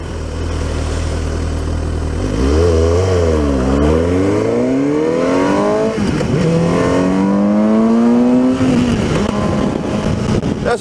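A motorbike engine revving hard while riding, loud and close, its pitch climbing and falling through repeated throttle sweeps and gear changes with no voices.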